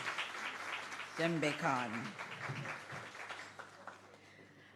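Scattered audience applause at a records department launch and off-boarding ceremony, fairly faint and distant, with a presenter speaking over it.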